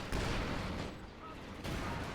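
Artillery barrage and cluster bomb drops in the Company of Heroes 2 strategy game make a dense, loud wash of rumbling explosions that eases briefly and then surges again.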